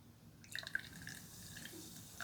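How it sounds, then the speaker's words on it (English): Maple pear Bud Light Seltzer pours from a can into a glass, with soft trickling and fizzy drips, faint and close. "Let's pour it out and see what we get."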